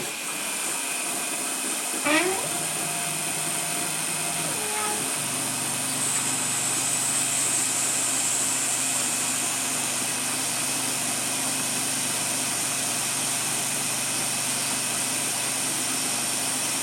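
An Emco F1 CNC milling machine spins up at 700 with a rising whine while drilling and reaming a control arm, then settles into a steady mechanical hum and high whine, running continuously at close range.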